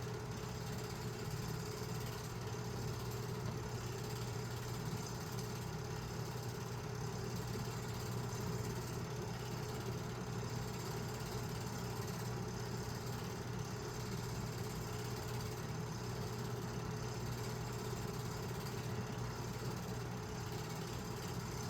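A steady engine drone from Norfolk & Western steam locomotive 1218 idles on without pause, low and constant, with a continuous rumble and no talking.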